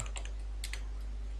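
A few soft keyboard taps on a computer keyboard while entering text into a logo design program, faint and brief, with no talking.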